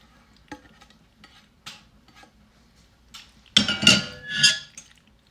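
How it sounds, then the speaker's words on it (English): Cooked macaroni stirred into cheese in a pot for a Jamaican dish, scattered faint clinks at first, then a burst of louder wet scraping and clattering spoon strokes near the end. "I'm gonna add the macaroni to the cheese"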